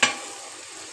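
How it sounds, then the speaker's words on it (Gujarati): Onions fry in oil in a home kitchen pan, a soft continuous sizzle with a sharp clink of a utensil at the start and another near the end. "ડુંગળી સરસ લાલ થઈ ગઈ છે, હવે શેકાઈ ગઈ છે।"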